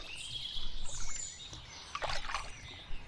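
Birds chirp and trill faintly in the distance over the quiet water of the Basingstoke Canal, with soft splashes and a gentle background hush.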